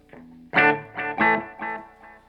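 Electric guitar chords ring out through a Fender Sonic 22 amplifier, each strum followed by a spacious reverb tail that lingers and fades.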